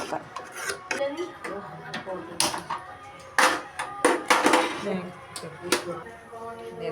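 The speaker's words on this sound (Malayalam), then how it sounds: "എല്ലാം ഇളക്കി കൊടുക്കുന്നുണ്ട്" A spoon stirs jackfruit seed curry in a pot, producing repeated metallic scrapes and clinks against the pot in an uneven rhythm, close and fairly loud, mixed with some other kitchen sounds.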